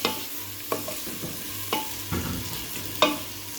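Onions lightly browning in a pan for mutton with bottle gourd, with a steady soft sizzle underneath and a few distinct spoon stirs and scrapes spaced out over it; no voices.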